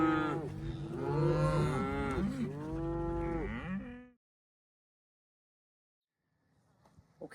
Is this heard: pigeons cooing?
no